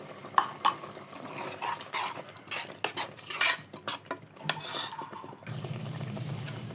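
A spoon scrapes and clinks against a pan in irregular strokes as masala for a coconut-milk chicken curry is stirred and sautéed, with a faint hum of cooking beneath.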